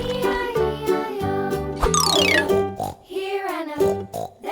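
Pig oinks sound during the Old MacDonald nursery rhyme for kids, with short snorting grunts repeating in rhythm alongside bright, tinkling children's music and a sung melody.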